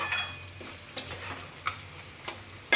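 Onions softening in a hot pan for poha give a steady, close sizzle broken by a few light clicks of stirring, with no talking.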